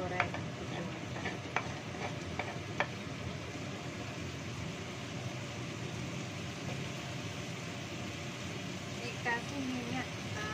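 Fried chilies are tipped into a pan and stirred, giving a steady soft sizzle with occasional scraping clicks of the utensil, quiet and continuous throughout.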